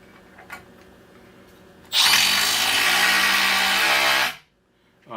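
A Milwaukee M12 Fuel Surge impact driver sinks a 3-inch screw into wood with no pilot hole, a loud, steady whirring drive of about two and a half seconds that starts abruptly and cuts off cleanly.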